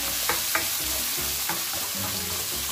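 Sliced tomato sautés in a pan for a Filipino jackfruit and shrimp stew, giving a steady close sizzle with light clicks of stirring. No voices.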